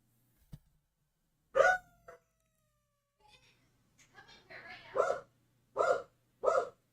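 Several barks and yowls come in spaced bursts from dogs, mixed with cat-like meowing cries, moderately loud against a quiet background with a low hum.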